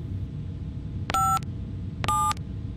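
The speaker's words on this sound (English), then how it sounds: "Give me that phone. I'm dialing." Two short electronic telephone dialing beeps sound in a video game, each about a quarter second long and roughly a second apart, over a low background hum.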